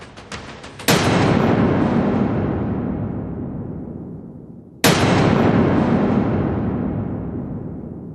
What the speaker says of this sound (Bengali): বেলা 12টার পর বিকট শব্দে বিস্ফোরণ